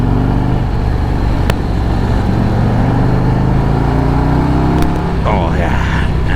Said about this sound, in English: 117 motor, oh, it just pulls and loves to rev, loves to pull